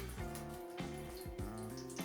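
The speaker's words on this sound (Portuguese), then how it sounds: "Eu vou pegar agora a água fria e vou começar a passar sobre a garrafa." Cold tap water running steadily over a plastic bottle, a continuous splashing flow with soft bumps of handling, fairly quiet and with no talk.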